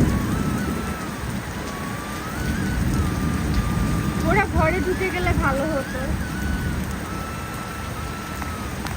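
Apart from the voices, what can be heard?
rain falling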